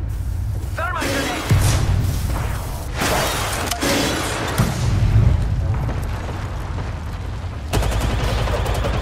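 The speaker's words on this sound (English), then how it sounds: "Thermite grenade!" Thermite grenades and gunfire go off in a shooter video game match, a run of sharp blasts and crackling bursts over several seconds, with players talking throughout.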